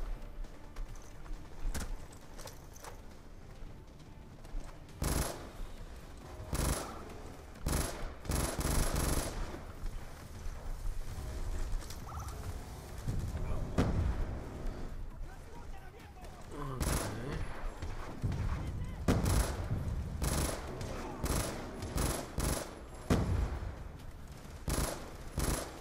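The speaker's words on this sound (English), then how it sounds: "The hell's that? Rapid fire laser?" A rapid-fire laser gun in the shooter Black Ops 2, with sharp bursts of repeated shots that come and go over a steady battle background while voices talk over the firing.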